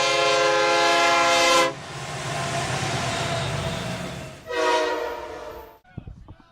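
A train horn blasts loudly for nearly two seconds, then rolling rail noise continues before a second horn blast and an abrupt cutoff.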